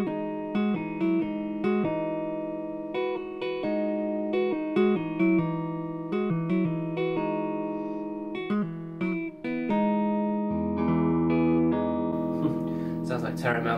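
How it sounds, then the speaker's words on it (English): Two notes finger-tapped together on electric guitar in a math rock, Midwest emo style riff repeat in a quick, bright rhythmic pattern, ending on a sustained ringing chord, played alone without talk. "find two notes that I can tap together at the same time"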